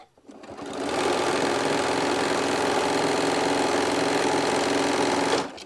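A sewing machine runs steadily and loudly while stitching quilt strips through to the end of the seam, a continuous buzzing whir that starts after a brief pause and holds to the end without talk.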